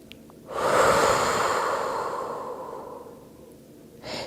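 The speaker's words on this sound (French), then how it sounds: "Dernière grande respiration. Pensez à souffler par la bouche si vous ressentez le besoin." Deep exhalation through the mouth during a beginner yoga session, a single long breath out that swells quickly, then fades slowly over several seconds, close and soft with no talking.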